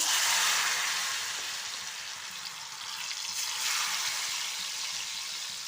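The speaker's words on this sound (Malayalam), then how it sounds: "ഞാൻ ചിപ്സ് ഉണ്ടാക്കാൻ തുടങ്ങുകയാണ്." Jackfruit chips frying in hot oil, a steady, loud, close sizzle with dense crackling that holds throughout, swelling slightly midway, with no voices.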